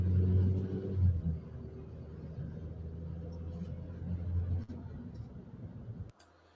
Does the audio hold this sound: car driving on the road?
yes